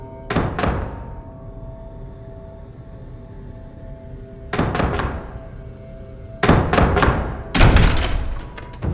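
Knocking on a toilet stall door in a horror video game's women's restroom, heard as sharp wooden thuds in short clusters: a double knock, a pause, then repeated bursts of knocks, loud and close.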